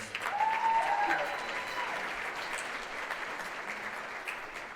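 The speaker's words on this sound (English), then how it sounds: "Round of applause for Paige." An audience at a holiday jazz band concert claps after a trombone solo, a soft, fairly distant patter that peaks early and then fades gradually.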